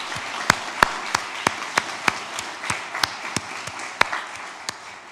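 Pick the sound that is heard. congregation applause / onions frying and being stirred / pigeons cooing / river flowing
congregation applause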